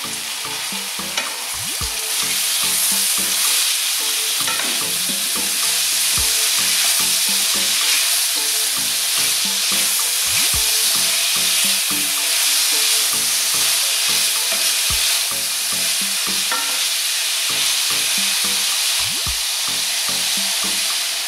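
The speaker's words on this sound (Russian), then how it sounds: "Добавляем болгарский перец порезанный." Chopped bell pepper fries in a pan with a continuous crackling sizzle, broken by repeated rhythmic stirring and scraping strokes throughout, close and fairly loud with no talking.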